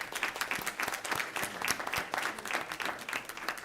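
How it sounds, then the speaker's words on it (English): A roomful of people at a school board meeting claps in a sustained round of applause, even and continuous at a moderate distance, with no one speaking over it. "So a big round of applause for her"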